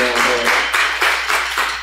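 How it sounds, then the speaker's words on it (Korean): A church congregation claps to welcome a friend, giving a short run of loud, rhythmic claps in an even beat, with a brief spoken voice at the start. "우리 박수로 환영합시다."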